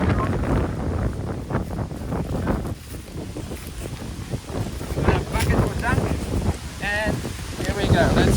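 Gusty wind buffets the microphone with a steady low roar during beekeeping, broken by rustling and a few brief high chirps near the end.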